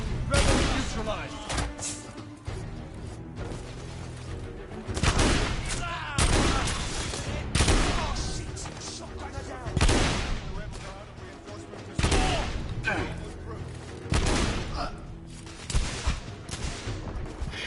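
Gunfire in the video game The Order, repeated bursts of loud shots in irregular clusters with brief gaps between them, someone talking intermittently beneath the firing.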